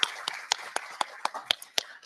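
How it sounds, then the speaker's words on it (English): Applause at a library conference session: sparse, evenly spaced hand claps, about four per second, sharp and fairly close, with little else behind them. "please give them a round of applause"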